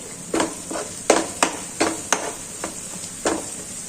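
Jaggery is stirred into a sizzling green pigeon pea curry in a pan, with about eight distinct spatula scrapes falling in an irregular rhythm over a low, steady sizzle. The scrapes sit close and moderately loud, and no voice is heard.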